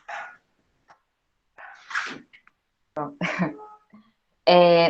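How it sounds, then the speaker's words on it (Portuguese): A female dog indoors gives scattered yelps and short barks. The bursts are separated by silence, and a louder, drawn-out cry comes at the end. "minha cadela tá gritando aqui"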